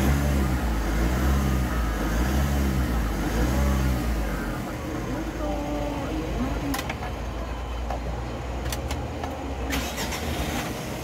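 A Mitsubishi L300 van's 4N14 diesel engine, which had an EGR control circuit fault, runs loud and close, with a steady low idle rumble, a few revs rising and falling early on, then settling into an even drone.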